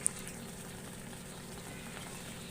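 Small chicken pieces tossed with turmeric cook in a hot kadai, giving a steady, even sizzling hiss that stays level throughout with no voices.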